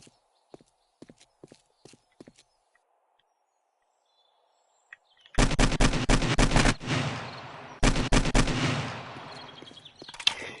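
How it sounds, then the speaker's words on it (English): Heavy automatic gunfire in the game 7 Days to Die, two long loud sustained bursts after scattered faint clicks and quiet, dense and close. "all the bullets and rockets and bullets and rockets I've shot at that, and I still have yet to break it"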